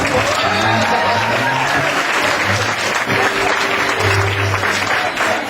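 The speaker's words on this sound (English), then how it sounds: "it's time to clap, people" An audience claps loudly and continuously, a dense even wash of applause with some crowd noise mixed in.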